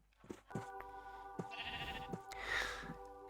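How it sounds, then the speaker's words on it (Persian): Sheep bleat in Minecraft with the broken script mod, a quiet, drawn-out wavering cry punctuated by soft thumping footsteps and clicks. "گوسفند اینجاست."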